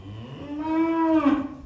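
A heifer in a dairy farm barn gives one drawn-out, close, loud moo that rises and swells before breaking off, with no other sounds around it.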